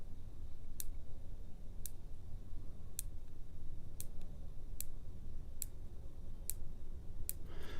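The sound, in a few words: scope windage and elevation turret adjustment clicks, CVLIFE 4-16x50 AO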